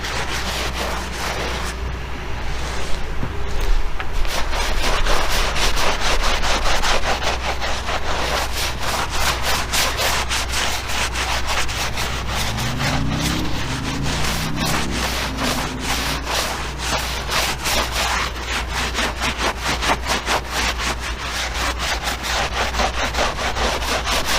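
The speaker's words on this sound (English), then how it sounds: "do some good hard scrubbing" Brush scrubbing a car tire hard, a loud continuous rapid back-and-forth rasping that runs steadily throughout with no talking.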